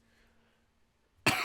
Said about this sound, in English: Sorry, it's like long COVID cough.